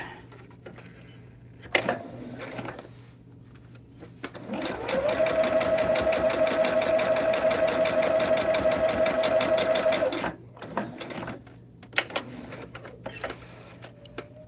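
A sewing machine runs in one steady burst of about five seconds while quilt pieces are stitched for a log cabin hexagon table topper, with brief clicks and handling noises before and after.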